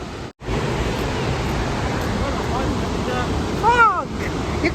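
Unchalli Falls near Siddapura in the monsoon gives off a dense, steady rushing roar that fills the whole clip. It breaks off briefly near the start, and a short rising tonal call sounds near the end.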